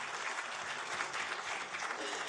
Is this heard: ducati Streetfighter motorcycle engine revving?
no